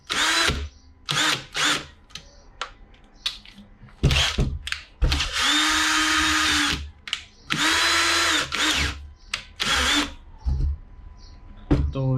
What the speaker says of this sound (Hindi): ये ड्रिल मशीन है